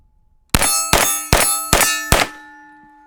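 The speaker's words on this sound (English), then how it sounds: "Steel target finally fell." Five sharp metallic clangs in quick, even succession as 9mm rounds from a Grand Power Stribog SP9A1 strike a steel target, each ringing briefly and the last leaving a lingering tonal decay; loud and close, with no talk.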